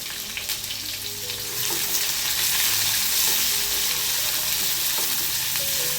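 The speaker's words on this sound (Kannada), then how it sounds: "ಈರುಳ್ಳಿ ಹಾಕಿದ ಮೇಲೆ ಚೆನ್ನಾಗಿ ಫ್ರೈ ಮಾಡ್ಕೊಳ್ಳೋಣ ಇದನ್ನು" Finely chopped onions frying in a pan for ivy gourd sabji, a loud, constant close-up sizzle that swells slightly midway, with faint stirring underneath and no voices.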